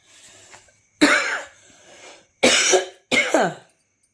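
Three loud, harsh coughs spaced apart with faint breathy noise between them, close to the listener and with no talking.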